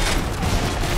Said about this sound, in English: I keep shooting at our guys up there